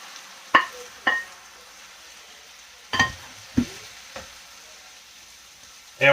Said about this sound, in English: you hear it sizzling because of the moisture from the tomatoes is jumped in against that oil